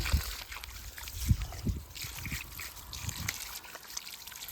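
Water trickles and splashes steadily from a tube rinsing out a pressure tank outdoors in a garden, with soft gurgling pulses and a continuous wet hiss.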